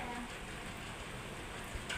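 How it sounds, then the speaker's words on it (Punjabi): Steady rain patters and hisses on surfaces at a home in Punjab during the rainy season, a soft, continuous wash of drops with no voices, faint and even throughout. "ਚਲੋ ਜੀ ਫਿਰ ਬਾਰਿਸ਼ ਦਾ ਆਨੰਦ ਲਵਾਂਗੇ"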